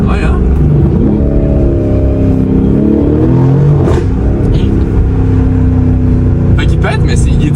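A 2025 Lamborghini Urus SE engine pulls hard under steady acceleration, a loud, continuous droning roar with rising harmonics heard from close by. Distinct exhaust pops are not clearly picked out.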